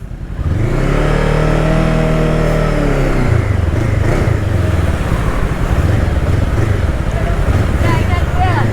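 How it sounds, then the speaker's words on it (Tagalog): Busy road traffic on a route from Sto. Domingo toward Sta. Maria in Pampanga, with a loud, steady rumble of engines, one vehicle revving and accelerating close by, and continuous motor noise. "Traffic."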